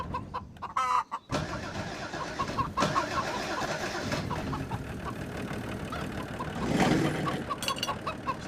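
An old bus engine cranks and catches, its rough, steady mechanical rumble running close and fairly loud for several seconds, with a brief sputter near the start.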